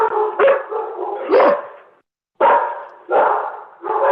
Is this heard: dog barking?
yes